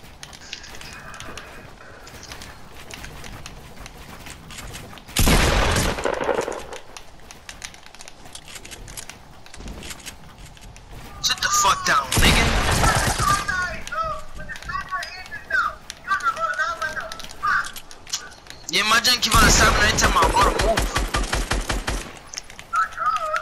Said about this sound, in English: He's shooting me down now.